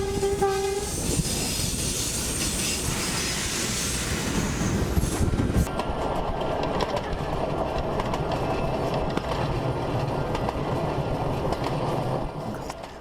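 A passenger train rolls steadily along with a continuous rumble and rattle, a brief horn-like tone near the start, the noise holding loud throughout.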